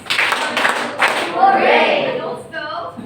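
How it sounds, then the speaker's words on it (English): A class claps for a student named Rose, a few quick hand claps near the start followed by a burst of children's voices and bright chatter in the classroom. "Let's give 3 claps and 1 hooray for Rose."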